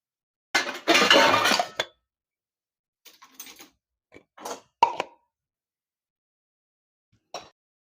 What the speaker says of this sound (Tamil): களி வச்ச பாத்திரத்தெல்லாம் நான் அடுக்கி வச்சிடுறேன்.